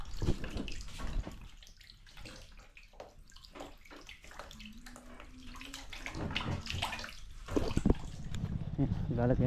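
Water running from a tap into a drum on a farm plot, a fairly quiet splashing flow that continues under someone speaking Filipino.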